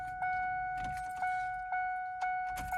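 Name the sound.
Ford Ranger fuel pump priming with ignition key on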